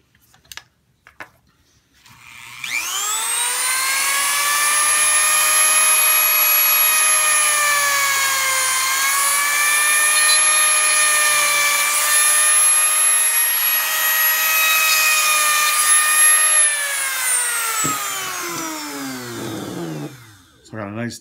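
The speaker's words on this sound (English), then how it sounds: "I'm going to let that sit for a minute while I Dremel out" Dremel rotary tool grinding a socket into the hand of a Star Wars figure, a high steady whine lasting about fifteen seconds with slight pitch dips under load, preceded and followed by small handling clicks.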